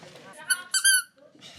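Squeaky rubber egg toy from a Tokyo vending machine squeezed several times, giving short, loud, high-pitched squeaks close to the listener, with faint background noise between them.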